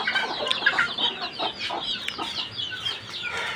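Layer and silkie chickens cluck and murmur close by in a mixed flock, their short overlapping calls coming in an uneven stream throughout, with no one talking.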